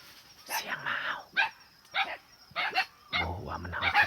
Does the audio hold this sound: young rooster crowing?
no